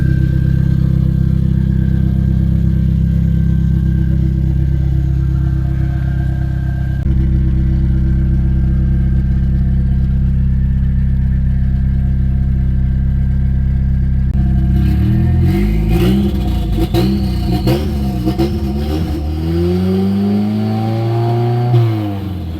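A Nissan S14 engine runs at a steady idle on a dyno, then revs hard through repeated sharp climbs and drops in pitch, loud and close throughout.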